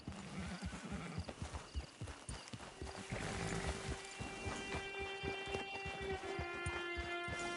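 Horse hooves clip-clop at a steady walking pace in the Red Dead Redemption video game, close and clear, with a brief whinny and faint background game ambience.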